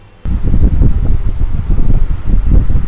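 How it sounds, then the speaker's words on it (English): Electric mixer grinder chopping onions: a sudden start into a steady, loud, close whirring rumble with a choppy texture, running unbroken to the end. "we have to keep the onions in this mixer grinder and we have to cut them into pieces"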